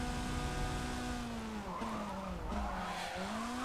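A Honda S800 in a racing video game drives hard, its engine tone holding steady and dipping at shifts, with tire squeal and skidding over the continuous drone and no voices.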